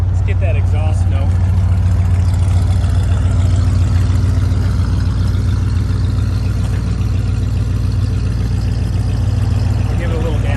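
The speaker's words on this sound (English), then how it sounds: "Let's get that exhaust note." A 1969 Lincoln Continental Mark III sits at idle, its exhaust giving a steady, loud, deep rumble that holds even throughout without revs.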